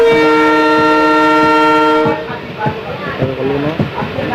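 A train pulling out of a station platform on a Goalpara to Siliguri journey sounds a long, steady horn blast for about two seconds, then low rumbling with clanks and rattles continues close by.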